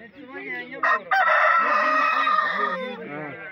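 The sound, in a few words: roosters and chickens crowing at a market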